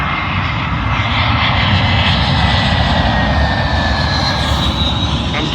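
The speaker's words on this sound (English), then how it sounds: "Arriving in now is a British Airways A320, working a service from Inverness to London Heathrow" A British Airways Airbus A320 arrives at London Heathrow runway 27L, its engines giving a loud, steady roar with a faint high whine that holds throughout, with no talk.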